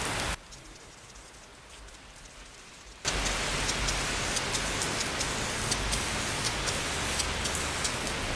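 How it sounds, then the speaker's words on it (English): Rain falls steadily outdoors during car painting work, a dense hiss that rises abruptly to a louder, heavier downpour partway through and continues without a pause. "It just started raining."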